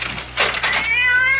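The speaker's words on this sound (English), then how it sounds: "that damn cat!" A single cat meows close by after a brief scuffling rustle, the cry rising and wavering for about half a second over a faint low hum.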